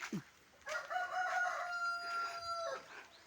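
A rooster crows once, a long, loud, drawn-out call close by, followed by a brief trailing cluck.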